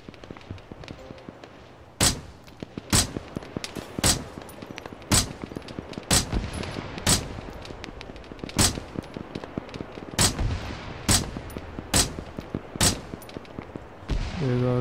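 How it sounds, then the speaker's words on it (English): Gunfire in the shooter game Argo: about a dozen sharp, loud single shots spaced roughly a second apart, each with a short ringing tail over quiet background ambience. "I'm shooting somewhere over here."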